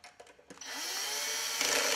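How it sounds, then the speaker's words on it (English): A power drill whirs up while tightening a brush holder on a Taxi Vac or HairVac vacuum, its clutch releasing into a sustained ratcheting buzz after a few short bursts. "you'll hear this drill kind of releasing when I did that"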